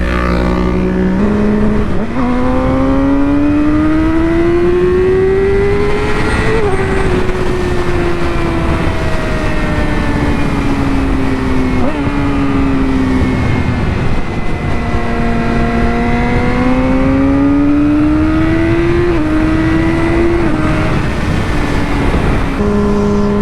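A Yamaha R6 sport bike engine fitted with a quick shifter, revving hard and climbing through the gears, its high-pitched whine rising and dropping with each shift, loud and close throughout with wind rush, no talk.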